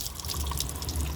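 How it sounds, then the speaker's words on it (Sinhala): Water runs from a tap in an outdoor garden, a steady splashing trickle at close range with no speech over it. "ටැප් එකේ වතුරත් එනවා"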